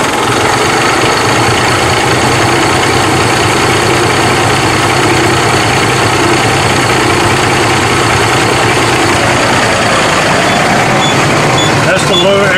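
Truck diesel engine running loud and steady at idle, a dense continuous rumble filling the whole stretch with no clear start or buzzer standing out; a faint tone change appears near the end.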